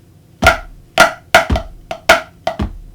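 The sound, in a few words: snare drum flams and paradiddle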